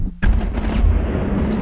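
Gunfire in the tactical shooter Rainbow Six Siege during a hostage match, erupting as a sudden loud burst and continuing as dense, rapid automatic shots that fill the moment close up.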